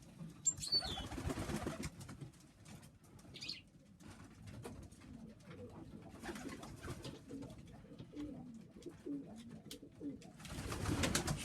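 Young pigeons in a loft, soft low cooing and occasional wing flaps amid quiet shuffling while the birds feed, faint and close.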